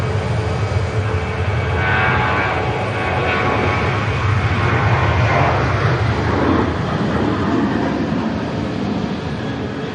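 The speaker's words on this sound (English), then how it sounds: "Here's a Ryanair from Paris, over." Ryanair aircraft arriving from Paris at Manchester Airport, a loud, broad roar that swells and rolls on steadily for the whole stretch with no talk.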